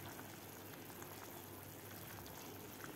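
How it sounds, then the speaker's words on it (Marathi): Cabbage soup boils in a pot, giving a steady, soft bubbling and simmering that stays at an even low level for a few seconds with no voices. "आता आपल्याला हे 2 ते 3 मिनिट हे सूप चांगलं उकळून घ्यायचं आहे।"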